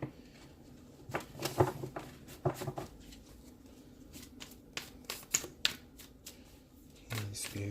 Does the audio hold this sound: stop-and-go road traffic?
no